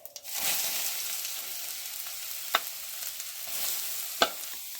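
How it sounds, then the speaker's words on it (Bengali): Cauliflower added to ghee tempered with cumin seeds, frying in a kadai: a continuous soft sizzle after an opening clatter, with occasional sharp taps of a spoon against the pan. "দু চামচ মতন গাওয়া ঘি একটুখানি জিরে ফোড়ন জিরে ফোড়ন দেওয়ার পরে দিয়ে দিচ্ছি ফুলকপিটা"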